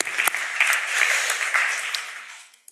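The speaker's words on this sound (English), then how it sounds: "Maybe a quick round of applause for Najiba." An audience in a conference room gives a short round of applause, dense steady clapping that swells and fades away within a few seconds.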